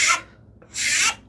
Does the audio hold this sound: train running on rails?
no